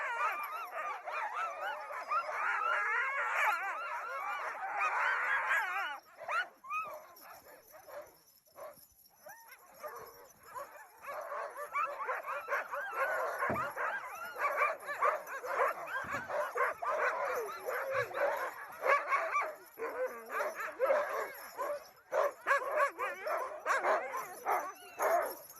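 A team of sled dogs on an expedition trip along the east coast of Svalbard barks, yips and whimpers in a restless chorus, close and fairly loud, dipping briefly before picking up again.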